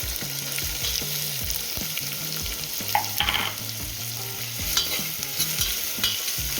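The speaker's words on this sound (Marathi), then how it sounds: "आता यात घालते दोन मध्यम चिरलेले कांदे" Chopped onions and garlic sauté in a pan for a lasuni aloo palak. A steady, close sizzle of frying runs throughout, with repeated scraping and stirring strokes on top.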